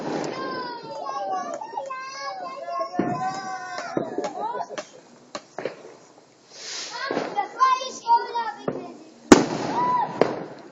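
Bonfire night fireworks are set off from a tube among a group outdoors. Whistling rockets and crackling pops sound at varying distances while children and adults talk and shout throughout.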